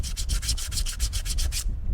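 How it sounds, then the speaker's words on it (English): Sandpaper of 80 grit rubs back and forth to strip glaze from a part on a Suzuki TS250 motorcycle, about a dozen quick, even, rasping strokes, close and steady, then it stops. "I take some 80 grit sandpaper and just take the glaze off of this"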